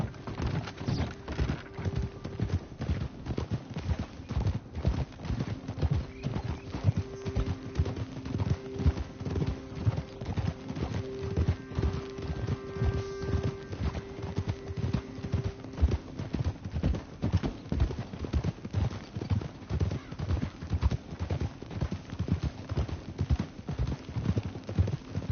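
Steady clip-clop of horse hooves on a trail in the open-world Western game Red Dead Redemption 2, a continuous rhythmic trot heard up close over a low ambient bed, with faint tonal game music and no talk.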